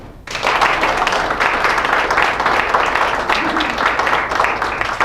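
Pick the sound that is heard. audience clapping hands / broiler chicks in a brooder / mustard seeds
audience clapping hands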